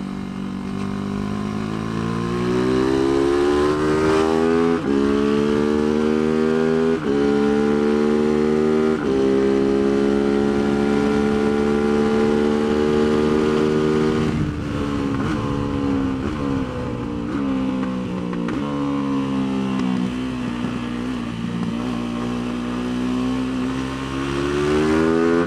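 Tianda TDR300 race motorcycle on a racetrack at Mission Raceway, its engine loud and close as it accelerates in third gear, pitch climbing and dropping repeatedly through corners with brief lifts off the throttle, no talking.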